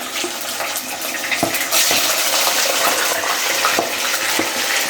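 Chicken pieces, including feet and heads, frying together in hot oil, a steady loud sizzle with occasional sharper crackles and stirring noises throughout.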